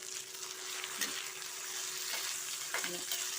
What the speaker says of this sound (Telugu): ఇప్పుడు ఇలా పోపు వేయించి పెట్టుకున్నాక ఇప్పుడు కొంచెం నూనె వేసి కూర కూడా వేయించుకోవాలి